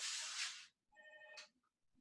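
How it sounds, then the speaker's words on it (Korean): A mobile phone ringtone for an incoming call chimes briefly and faintly during a signal processing lecture, a short tonal burst following a hiss, with no talking. "쏘리 잠깐만 전화가 와."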